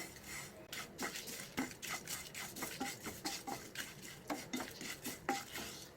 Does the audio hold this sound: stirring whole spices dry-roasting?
yes